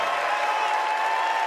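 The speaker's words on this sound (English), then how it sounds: "Applause for a civil rights icon who dedicated his life to keeping hope alive." A Democratic National Convention crowd applauds civil rights leader Jesse Jackson, a brief, loud and steady burst of massed clapping.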